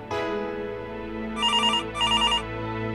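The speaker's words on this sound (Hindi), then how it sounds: "अरे घर पे कोई फोन क्यों नहीं उठा रहा है?" A landline telephone rings in two short trilling bursts over a sustained musical background, with no one speaking.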